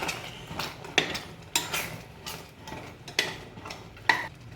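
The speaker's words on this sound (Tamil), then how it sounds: "வதக்கி வச்ச ப்ரக்கோலின், கேப்சிகம், மஷ்ரூம் எல்லாத்தையும் சேர்த்து மிக்ஸ் பண்ணுங்க." Sautéed broccoli, capsicum and mushroom being stirred into cheese pasta in a pan: a series of soft scraping strokes and light clinks of a utensil against metal, recurring roughly every second at close range, without speech.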